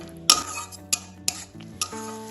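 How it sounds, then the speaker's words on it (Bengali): A spoon stirs spice paste in hot oil for a tomato paneer curry, with a few distinct metallic scrapes and knocks against the pan over a faint, soft sizzle, close and fairly quiet. "তেলে এবার একটু এটা নাড়াচাড়া করে নেব যাতে মশলার কাঁচা ভাবটা না থাকে।"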